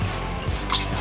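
Water is poured onto soaking basmati rice in a pot for home-style chicken biryani, a short close splashing, gurgling pour with a few liquid squishes and no talk.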